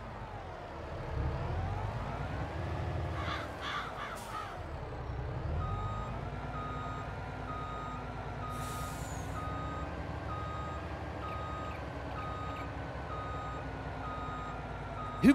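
A steady electronic reversing beep repeats over a heavy truck engine's low rumble in a farming video game, with a brief hiss of air brakes partway through.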